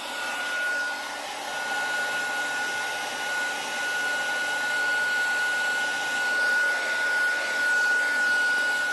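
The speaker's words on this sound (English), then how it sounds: "I'm going to take my heat dryer and I'm going to dry it" A handheld heat dryer blows steadily with a constant whooshing roar and a thin high whine, drying a wet rope-rimmed gourd bowl, close and loud throughout with no talking.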